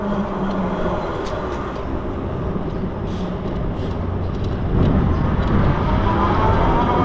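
Coswheel T20S pedal-assist e-bike riding at speed 4 on independent throttle, heard as a steady, loud rush of wind and road noise with a motor hum that swells slightly toward the end, with no talking.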